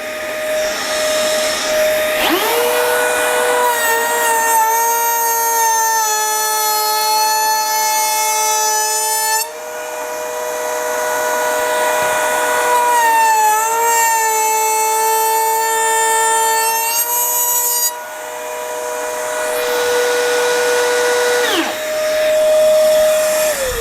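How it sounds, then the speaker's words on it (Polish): A handheld wood router fitted with a DIY parallel fence runs alongside a vacuum dust extractor, a loud, high whining tone that holds steady and dips slightly as load changes over about twenty seconds before winding down. "włączamy odkurzacz i zobaczymy, jak to zbiera też. Odpalamy frezarkę."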